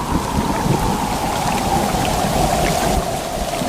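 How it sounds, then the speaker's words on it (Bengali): Steady heavy rain pours without pause during a storm, a dense wash of noise with low rumbling underneath, loud and close throughout. "সেদিন সন্ধ্যা থেকে শুরু হলো খুব ঝড় বৃষ্টি"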